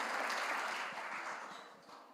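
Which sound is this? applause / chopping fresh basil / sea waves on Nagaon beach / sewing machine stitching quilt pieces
applause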